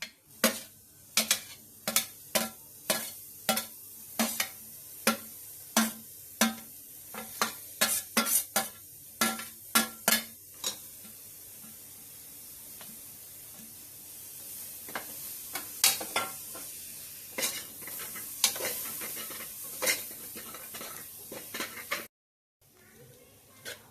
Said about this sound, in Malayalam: അപ്പോൾ അതിലേക്ക് ഞാൻ ഈ അരിഞ്ഞു വെച്ചിരിക്കുന്ന തക്കാളി, മല്ലിയില, ഈ രണ്ടും ചേർക്കുകയാണ്.